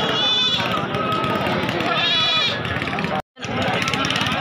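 Goats bleat repeatedly amid the bustle of the Hasilpur goat market, their wavering cries rising over a dense crowd murmur, with a brief dropout near the end.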